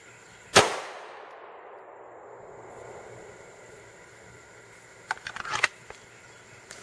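A Glock 17 fires one 9mm Civil Defense round at a bulletproof vest outdoors, a single loud sharp shot that rings out and decays, followed by a few softer clatters.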